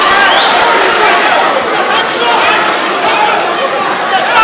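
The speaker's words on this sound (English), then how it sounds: "They're all cheering on Simon O'Donnell." Crowd cheering at a boxing fight attended by building-trade glitterati, backing fighter Simon O'Donnell: a dense, steady roar of many voices that stays loud and unbroken throughout.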